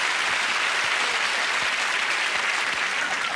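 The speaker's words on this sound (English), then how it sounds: "Give a round of applause, ladies and gentlemen, Tweedledee, Tweedledum." Studio audience applause at a 1994 Christmas TV game show, a dense steady wash of clapping that holds at full strength for the whole stretch with no voices on top.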